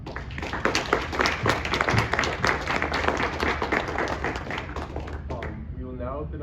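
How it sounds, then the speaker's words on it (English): Audience applause for panelists at an international exchange panel discussion, sustained and fairly close, with a few voices speaking briefly as the clapping dies away at the end. "can we please get a round of applause for the Thank you, panelists?"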